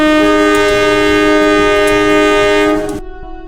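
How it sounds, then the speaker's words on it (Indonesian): A long, loud, steady train whistle blows with rich harmonic tones amid a forest, then cuts off abruptly, leaving a fainter fading tail. "Peluit kereta terdengar panjang, mengembang di tengah hutan"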